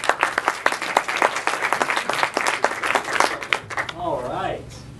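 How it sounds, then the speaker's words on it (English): Comedy club audience clapping and cheering for a stand-up comic being introduced, dense steady applause for about four seconds that fades out at the end. "Y'all please give him a round of applause."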